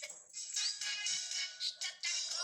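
A bright electronic ringtone plays in repeated bursts with short gaps, close and fairly loud, with no one speaking.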